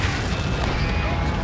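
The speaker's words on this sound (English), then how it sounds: "Dropping the bomb now." A bomb blast in the Ace Combat 7: Skies Unknown flight game, a dense, loud booming rumble that fills the whole short moment without any talk.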